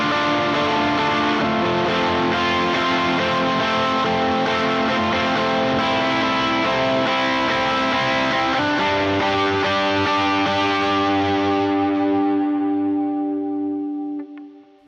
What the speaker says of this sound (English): then I'll usually kick on the Benson preamp